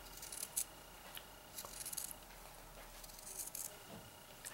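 Scissors snip through sewn fabric, trimming about 0.3 cm outside the stitching line around a snake-shaped baby item; several faint, quick cuts come in short bursts over a soft background hiss.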